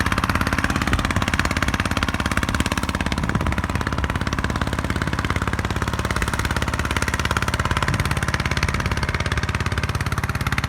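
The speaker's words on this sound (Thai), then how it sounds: "รถไถนาดัดแปลงนะครับ ขึ้นมาแล้วครับ ขึ้นมาแล้ว เร่งเครื่องไปแล้วครับ" A loud, rattling modified farm tractor engine chugs continuously and strains under load revving uphill, a harsh mechanical drone that holds steady throughout without pause.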